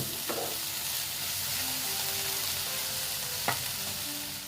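Soybean chunks fry in a pan with a steady, close broadband sizzle, broken by two sharp stirring scrapes of a utensil about three seconds apart.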